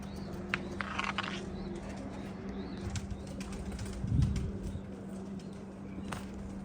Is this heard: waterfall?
no